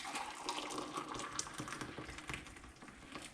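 Water runs steadily into a pan or mug of long grain rice, a continuous close splashing pour that holds at an even level for a few seconds, with no speech.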